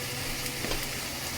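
Ground spice paste with cumin sizzles and fries in a pan for a Bengali stingray fish curry, a steady close hiss with faint stirring scrapes.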